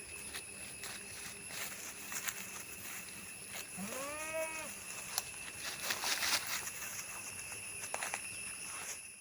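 A goat at a livestock sale gives a single short bleat midway through, set against steady outdoor background noise with faint clatter and footstep-like sounds.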